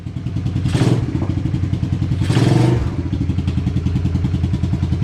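A 1986 Suzuki Quadrunner LT250EF ATV's 250 cc engine chugs close by with a rapid, throbbing idle. The throttle blips twice into short revving bursts before it settles back to its loping beat.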